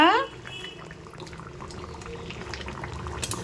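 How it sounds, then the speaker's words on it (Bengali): A pot of mutton curry bubbling on the stove, a soft continuous simmering burble heard close, with a brief voice at the very start. "কেমন ফুটছে মাংসের ঝোলটা।"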